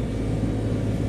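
A propane tankless water heater in an off-grid cabin bathroom fires its burner, giving a loud, steady low roar that holds evenly throughout without pauses.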